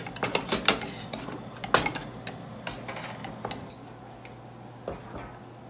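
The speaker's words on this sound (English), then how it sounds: "we keep mixing this with a wooden spoon" Dough for tulumba being mixed with a wooden spoon in a pot, a series of knocks and scrapes, busier early and then sparser, close but fairly quiet.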